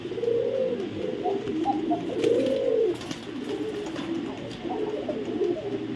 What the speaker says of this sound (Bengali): এই যে কোকা কবুতরটা ছাড়লাম